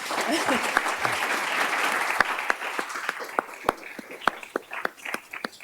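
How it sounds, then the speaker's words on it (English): Applause from the audience at a Harvard Law School Library book talk on campus free speech. Full, steady clapping fades into scattered individual claps that grow sparse toward the end. "Let's get another round of applause."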